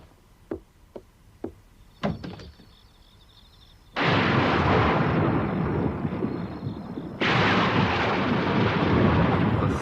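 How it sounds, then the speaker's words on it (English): Thunder from a storm at night: a few sharp distant claps and cracks, then two long, loud rolling rumbles that swell and sustain. "A thunderstorm."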